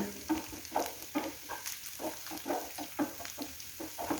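A roasted ginger mixture for inji curry is stirred in a pan, producing a steady rhythm of soft scraping strokes with a light sizzle, close and fairly quiet, with no voices.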